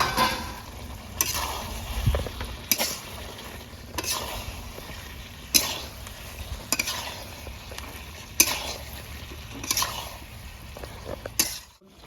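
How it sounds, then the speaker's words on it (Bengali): Cauliflower being stir-fried in chicken gravy in a pan, rustic home style: a low simmering sizzle broken by regular scraping strokes of a spoon against the pan every second or so. "এবারে আমি এখানে ফুলকপি 2-3 মিনিট কষে নেবো গ্রেভির সঙ্গে"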